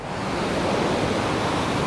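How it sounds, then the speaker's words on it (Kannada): A waterfall pours over rocky hillside stone, giving a dense, continuous rushing roar that stays steady and close throughout. "ಕಸಾಡ ಅಂದ್ರೆ ವಾಟರ್ ಫಾಲ್ಸ್"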